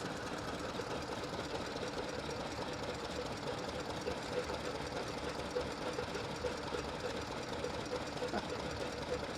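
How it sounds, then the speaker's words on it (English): An automatic lathe running smoothly at an outdoor steam show, a steady even mechanical whirr and rapid ticking that continues without a break, with faint crowd murmur in the background. "Super smooth automatic lathe."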